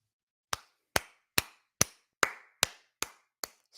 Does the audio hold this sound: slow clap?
yes